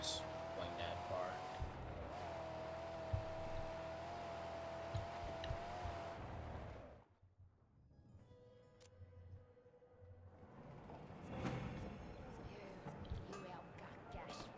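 Distant cars driving across a wasteland in the Mad Max video game, a steady engine drone that fades out near the middle and then returns with more activity, while faint talk runs underneath.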